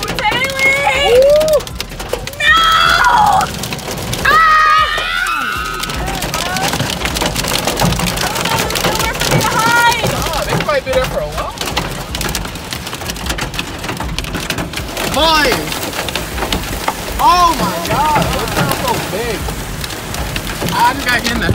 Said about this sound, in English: Oh no, it's hailing!